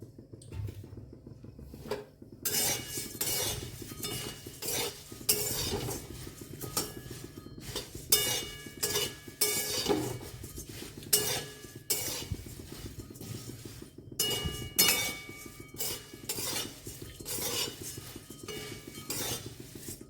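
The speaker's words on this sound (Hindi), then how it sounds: "अब मूढ़ी को हम हल्का भून लेंगे।" Puffed rice (murmura) dry-roasting in a pan is stirred with a utensil, producing repeated close scraping and metallic clinks in an uneven rhythm throughout, with short pauses between bursts.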